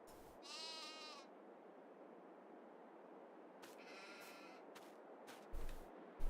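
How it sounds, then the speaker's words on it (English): Sheep in Farming Simulator 22 bleat several times over quiet farm ambience, one clear bleat near the start and a cluster of overlapping bleats later, fairly close. "Oh look, sheep coming over because they're putting food in."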